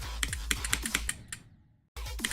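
A computer keyboard is tapped during a PC game, a quick run of sharp, close key clicks in an uneven rhythm, then a short pause before a final burst of clicks.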